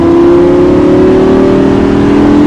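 A Lamborghini LP560 engine pulls hard at full throttle on a circuit during a driving course, a loud, steady rising roar with a strong tonal drone held without a gear change for the whole stretch.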